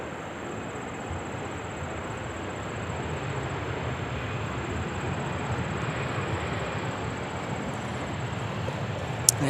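A jet at Minneapolis–St. Paul airport gives off a steady, distant, broadband roar that swells slightly toward the end, with a faint high tone above it and a brief click at the close.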